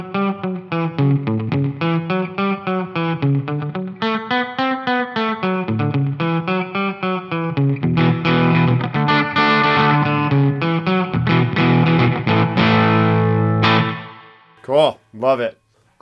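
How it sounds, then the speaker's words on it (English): Electric guitar through a NUX Atlantic delay and reverb pedal set to spring reverb plays a continuous distorted, effect-laden riff with wobbly sustained notes, ending in a few isolated ringing plucks. "Kick on some reverb with some spring."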